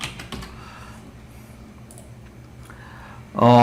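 A computer keyboard is typed on in a quick run of light clicks, close to the microphone in a quiet room, with a louder burst of sound at the very end.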